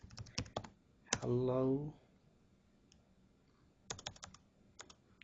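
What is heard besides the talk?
typing on a computer keyboard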